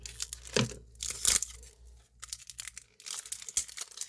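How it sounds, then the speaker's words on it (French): Paper and plastic wrap crinkle and tear as scissors cut open a tightly wrapped advent calendar package, in several close bursts of rustling and snipping separated by brief pauses. "Je vais prendre mon ciseau pour l'ouvrir sans faire de dégâts."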